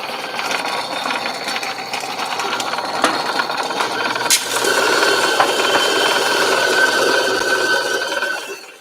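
An electric burr grinder runs on a 24-gram dose of coffee beans, a steady mechanical whir that grows louder and fuller midway and holds to the end, with no talking.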